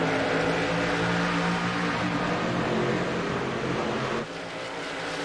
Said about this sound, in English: And Dalton is on the loud pedal there